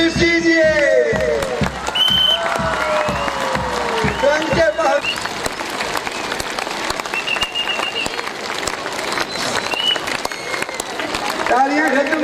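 A crowd in Kahuta applauds steadily to welcome Dr Abdul Qadeer Khan. The dense, sustained clapping mixes with cheering and murmur, and a voice speaks over it at the start and the end.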